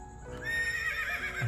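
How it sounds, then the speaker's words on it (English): A horse whinnies at close range, a single drawn-out call lasting about a second, clear and fairly loud with no talking over it. "That's a horse sound."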